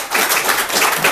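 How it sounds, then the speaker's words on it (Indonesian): A crowd claps and applauds for activists at a Yogyakarta gathering of democracy activists, a dense, steady patter of many hands that carries loudly through the whole moment. "Tepuk tangan untuk para aktivis."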